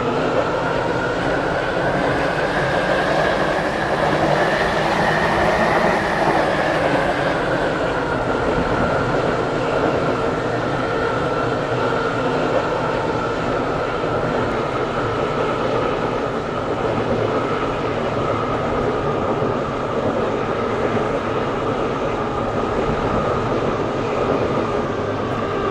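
A Class 720 train in the Stepford County Railway game rumbles along steadily, with a continuous motor hum and track noise that dips slightly in pitch partway through and stays constant after.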